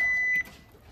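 A single steady electronic timer beep sounds for just under half a second at the start of a kadhi chawal eating challenge, then cuts off to a quiet room.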